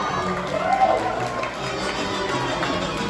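A crowd gathers at Knott's Spooky Farm for a live marionette show, a diffuse murmur of many voices with light stirring and a brief faint cheer.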